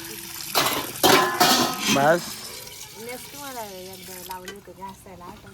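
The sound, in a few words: washing dishes with water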